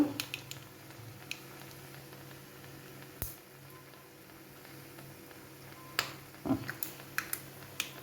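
Mustard seeds splutter in hot oil in a pan on the stove as a tempering for a bean and papaya curry. Scattered sharp pops and crackles stand out from a quiet background, growing more frequent toward the end.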